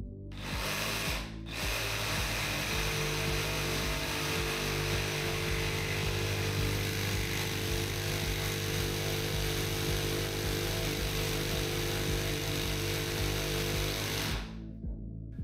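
A DeWalt XR cordless jigsaw making a 45-degree bevel cut through a workpiece, a loud, steady buzzing saw drone that runs for about thirteen seconds after a brief start and stops near the end.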